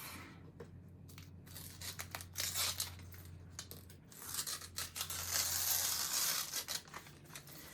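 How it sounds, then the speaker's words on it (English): Fabric or stabilizer being torn away from a small machine-embroidered wall hanging made on a Brother stitching machine, with rough ripping and crinkling bursts over a steady low hum, close and fairly quiet. "We should be able to just rip it off."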